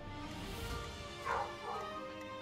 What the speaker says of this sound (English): Someone came to visit, so my dogs were barking.